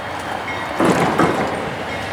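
A CSX freight train rolls past close by as a steady loud roar of rail noise that swells briefly, with no voices.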